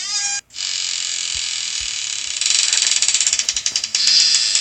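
Jingly advertisement song with mechanical ratcheting clicks plays loud and continuous during a mobile horror game, The Fear: Creepy Scream House, briefly cutting out near the start and turning into a rapid rhythmic pattern later.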